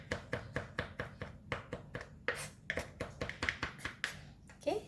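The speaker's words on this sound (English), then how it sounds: "for dill, right, I'm going to cut it into a very small pieces" Fresh dill is chopped into tiny pieces on a cutting board, a quick run of close, sharp knife taps in an even rhythm of roughly three per second.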